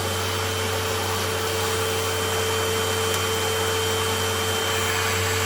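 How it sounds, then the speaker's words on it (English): Steady, loud Hoover Elite Rewind vacuum cleaner whine through the hose, with a constant hum and hiss of suction, continuous and unchanging throughout. "let's check the suction of the hose and see if it's any better"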